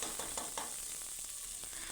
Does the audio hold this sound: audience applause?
no